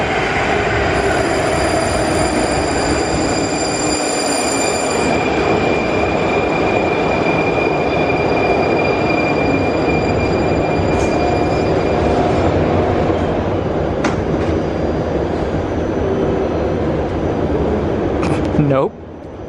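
A metro train pulling into a Prague station, loud rumbling and rolling with high wheel squeal and whine that tapers as it slows, ending with a brief clunk; no voices.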